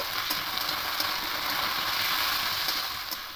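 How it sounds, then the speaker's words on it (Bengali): Potatoes frying in oil in a pan, a soft, steady hiss of sizzling with faint scrapes of stirring now and then, heard from close by without any talk. "আলুগুলো একটু ভাজা ভাজা হচ্ছে"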